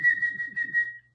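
A single sustained, fairly loud whistle tone, made by a human voice imitating a blown whistle, holds steady for about a second before cutting off, with faint breathy sound beneath it.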